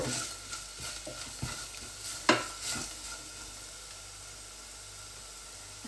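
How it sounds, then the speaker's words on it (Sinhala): A paprika spice mixture is stirred in a hot frying pan for chicken, with a steady sizzle and hiss under a few scattered scrapes and knocks of the spoon and no voices. "මේ විදිහට දැන් මේ ටික හොඳට කලවම් කරලා මස් ටික දාගමු."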